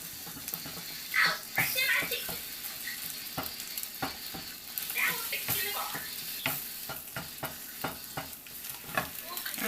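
Eggs sizzling and frying in a pan in a home kitchen, a steady crackling hiss broken by scraping and tapping of a utensil, close and fairly quiet with no voices.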